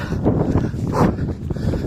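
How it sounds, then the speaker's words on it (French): Strong wind and rain sweep an outdoor staircase during an uphill training climb, making a loud, continuous, gusty roar that buffets the microphone, with no talking. "La pluie et le vent se sont intensifiés, pas facile."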